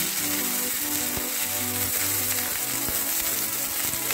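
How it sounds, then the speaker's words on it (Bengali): Tomato, onion and green chili fry in hot oil for a bitter gourd and prawn dish, giving a steady close-up sizzle with faint rhythmic clicking running underneath. "এরপর আমি টমেটো আর পেঁয়াজ লঙ্কা যা আছে সব দিয়ে দিয়ে ওই তেলে ভালো করে ভাজবো"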